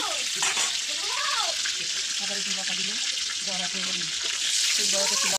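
Bay leaves frying in oil in a pan, a loud, close, continuous bright sizzle that never lets up, with a person talking over it throughout.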